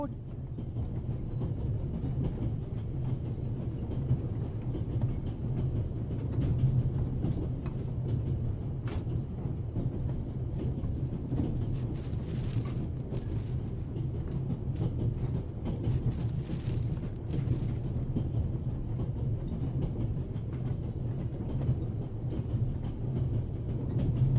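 Steady low rumble of a train carriage rolling along in a video game, with faint rattles and clicks over a continuous drone, no talking.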